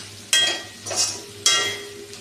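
Onions frying in a pan for dal fry, with three bursts of sizzle as the onions are stirred, separated by a quieter steady crackle close at hand.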